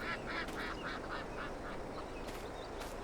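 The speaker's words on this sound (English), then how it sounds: "We got a mallard duck over there." Mallard ducks in the farming game Farming Simulator 22 quack in a steady string of short, nasal calls, several birds overlapping against a soft, constant background hum.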